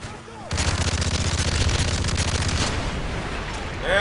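Automatic gunfire in Call of Duty Modern Warfare 3, a loud rapid burst of shots starting abruptly after a brief quiet moment, sustained for several seconds then tapering with faint trailing effects.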